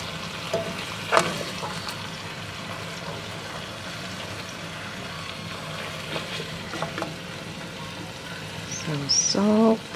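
Pork chops sizzle and fry steadily in a frying pan after being turned, a continuous close crackle with light clinks and stirring noises, brief scraping near the end.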